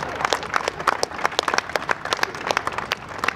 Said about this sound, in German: schon mal mehr Applaus bekommen für den Spruch hier